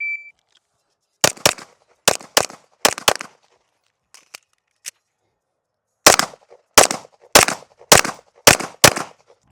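Pistol shots ring out during a shooting drill in tight pairs and short strings, a first volley, a pause with a couple of isolated cracks, then a faster run of doubles, loud and close.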